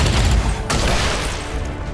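A soldier fires on an archer in XCOM Long War 2, a loud burst of gunfire with a sharp crack partway through, fading into a rumbling tail.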